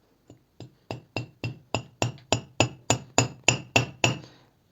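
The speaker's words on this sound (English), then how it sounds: "start to hammer it at the end" A steady run of about a dozen sharp metallic hammer strikes flattening the end of a wire on a hard surface, getting louder and faster before stopping.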